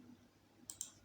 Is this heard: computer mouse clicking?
yes